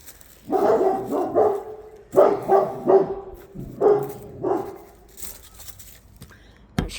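A big dog barks behind a fence, throwing out about eight deep, full barks in short bursts of two or three with brief pauses between, moderately close and clear over quiet surroundings.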